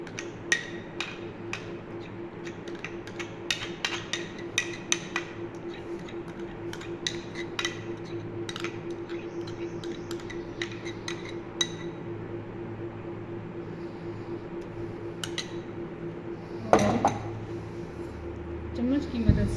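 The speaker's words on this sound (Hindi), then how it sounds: "चम्मच की मदद से अच्छी तरीके से इसको मिक्स कर लेंगे।" Metal spoon mixing cream into fruit chaat in a bowl, repeated light clinks and taps scraping against the bowl at an uneven rhythm, close up, with a steady background hum and a louder clatter near the end.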